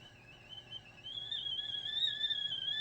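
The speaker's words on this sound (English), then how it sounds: "There goes whistling again." A rice steamer whistles steadily as steam escapes while brown rice cooks, a thin continuous tone that rises and grows louder over a low background rumble.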